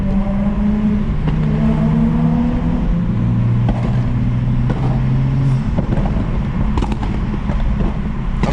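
A tuned BMW M235i with an N55 engine, FBO Stage 2+, revs and shifts while driving, its engine note rising and falling steadily under road and cabin noise, with occasional sharp pops.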